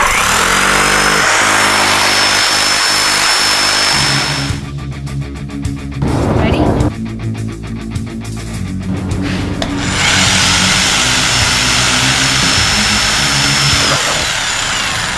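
A loud power tool breaking up concrete, a sustained harsh grinding drone with rattling, buzzing harmonics that shifts and roughens in the middle as the bit bites in, close and dominant with no talk.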